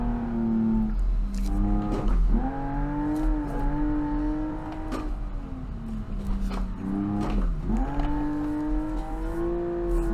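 A Group B rally car inspired by the Porsche 911 drives on gravel in BeamNG, its engine note climbing through the revs, dropping sharply on gear changes and climbing again, close and steady, with no talk.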